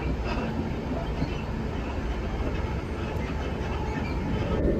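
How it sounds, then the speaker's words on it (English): A shaky suburban train on Scotland's North Clyde Line rumbles along near Hillend Loch and Caldercruix, heard from onboard as a steady loud roar with rattling carriage noise and a brief squeal near the end. "shaky suburban train"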